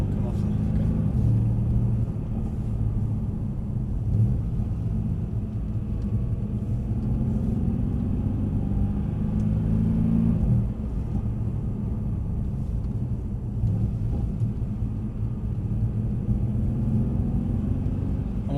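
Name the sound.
Mercedes C63 AMG driving on a track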